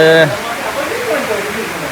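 Heavy rain water pouring off a metal sheet roof onto the ground, a steady dense rushing splash close by, following a brief voice at the start.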